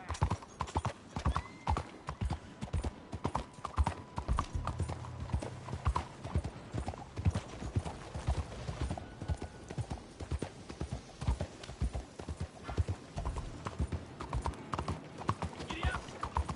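A horse's hooves clip-clop in a steady, brisk rhythm while it is ridden in the Red Dead Redemption 2 video game, close and continuous, with an occasional whinny and game dialogue mixed in.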